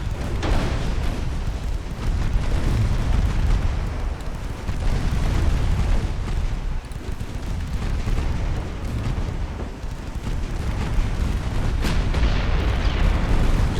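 Naval machine gun fire from a warship in Ultimate Admiral: Dreadnoughts, set in an 1890 Italian campaign: a loud, dense, continuous rattle of rapid shots with heavy low rumble that runs unbroken for the whole stretch, with no voices.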